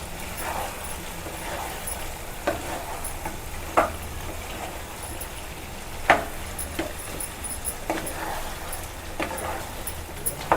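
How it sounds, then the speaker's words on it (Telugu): Country chicken curry with turmeric and ginger-garlic paste being stirred in a hot pan, a low steady sizzle of frying broken by occasional scraping and clinks of the spoon against the pan. "ఇప్పుడు ఇదంతా మంచిగా కలుపుకుందాం"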